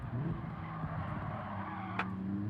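A car in Gran Turismo 7 holds a steady engine drone while sliding under braking, ending in a short tire squeal near the end.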